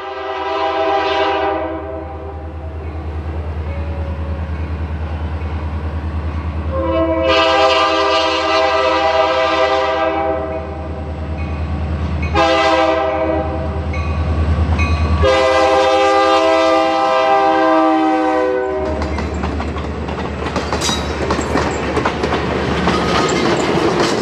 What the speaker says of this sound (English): The train climbs up a stiff grade and puts on quite the nice show as it throttles by.